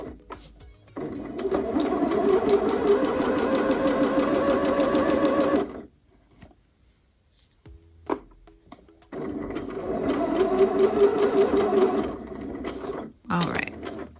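A sewing machine bastes the side seam of a pair of joggers in two long, loud, even stretches of motor whir and rapid needle clatter, separated by a quiet pause with brief handling sounds.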